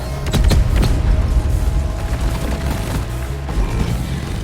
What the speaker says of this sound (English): And there's that fireball attack.